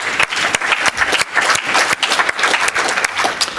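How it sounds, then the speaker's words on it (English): Attendees at a multiple myeloma medical conference break into loud, close applause, a thick steady patter of many hands clapping that holds for several seconds. "I think a round of applause is warranted"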